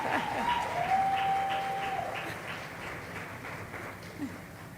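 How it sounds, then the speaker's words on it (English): A crowd at a women's roundtable jazz brunch during Essence Fest claps in sustained applause that slowly tapers, moderately distant and even, with a voice briefly heard over it early on. "Let's give her a round of applause"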